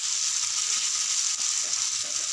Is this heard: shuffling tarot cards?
no